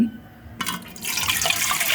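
Hot water is poured over small omena sardines to wash them. It starts suddenly as a close, splashing gush that builds into a steady pour and runs on without talk.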